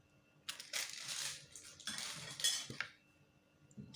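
A metal spoon scrapes and clinks against a bowl in bursts of close, gritty stirring as milk powder is mixed into homemade rice cream, with brief pauses between strokes.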